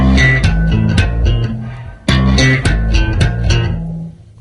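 Bass guitar notes struck straight without sliding, played in a super slap bass style: repeated sharp percussive attacks over a sustained low line, two phrases separated by a brief gap, loud and close, no talking.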